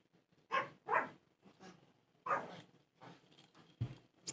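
Several dogs bark in a neighborhood while fireworks go off, with a few sharp bark bursts in an uneven rhythm at close to moderate distance and short pauses between them.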